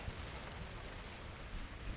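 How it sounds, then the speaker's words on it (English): Light rain falls steadily as a soft, even hiss of fine drops with a few slightly louder patters, with no voices. "It's raining."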